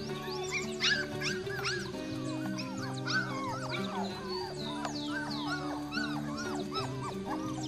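Orphaned puppies at a rural farm whimper and yip continuously and close by while they play, with high, overlapping cries over a steady background drone.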